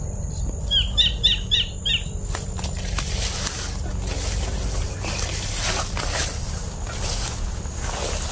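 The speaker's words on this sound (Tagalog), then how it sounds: "Nagpapanggap lang na normal na ibon." Birds chirp in quick repeated calls over a low rumbling ambience in a horror video game, with the tweets clustered early and then fading into faint scattered sounds.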